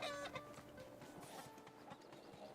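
Faint chicken clucking in a video game, a few soft scattered clucks and scratchy steps under low background game noise, quiet and distant.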